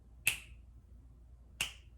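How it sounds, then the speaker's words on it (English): Two crisp, close finger snaps ring out about a second and a half apart, sharp and isolated against a quiet room, marking a count during a group breathing exercise. "I'm going to start snapping my fingers to count."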